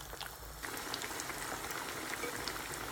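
Oil boiling in a pan to fry marinated chicken, a dense, steady crackle and sizzle of close bubbling with no speech.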